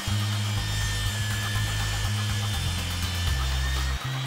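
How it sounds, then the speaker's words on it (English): A saw cuts through wood guided by a miter gauge, a steady, loud, droning whine with a low hum that holds for the whole cut, with brief dips near the end. "So I'll switch to the miter gauge, mark out the measurement, and make my cut."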